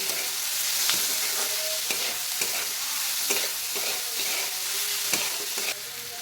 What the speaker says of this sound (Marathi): आता पुन्हा हा टोमॅटो एक दोन मिनिट परतून घ्यायचा आहे